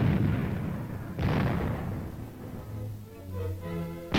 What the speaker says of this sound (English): When you fire them, you can see a reddish glow marking the shot.